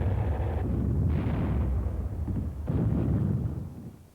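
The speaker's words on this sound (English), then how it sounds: "A new weapon, the recoilless rifle, was used for the first time in combat during the campaign's final days" Heavy, booming blasts of a recoilless rifle firing in combat on Okinawa in 1945, rolling out in several deep, sustained bursts over a constant wartime din.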